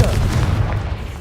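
A booming Confringo spell blast in the Hogwarts Legacy video game fills the whole moment, a loud, dense low rumble with no gap in it.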